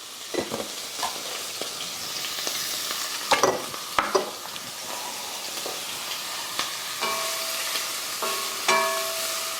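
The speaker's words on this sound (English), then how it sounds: "I'm going to drop the chopped onions in. And because the carrots are going to take longer to cook, I'm also going to put them in with the onions." Chopped onions and carrots dropped into a hot pan and frying for bulgur wheat dishes, with a continuous close sizzle, several sharp clatters and stirring scrapes, no voices.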